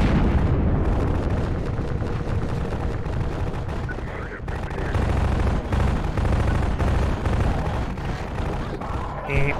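Booby-trapped bombs in the video game Half-Life 2 go off as loud, dense explosions and gunfire crack and rumble continuously, close and heavy, with a brief lull in the middle.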